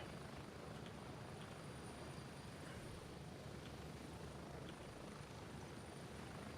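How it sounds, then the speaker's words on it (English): A helicopter in a video game, a continuous, steady rotor and engine drone that stays constant throughout, faint and unbroken, with no speech. "There's the chopper."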